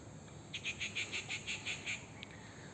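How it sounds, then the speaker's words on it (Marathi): A single bird repeats a short chirping call about eight times in a steady rhythm, fairly near, over constant background hiss on a morning at a Goa resort with cottages near Mayem Lake. "पक्ष्यांचा किलबिलाट आपल्याला ऐकायला येतो."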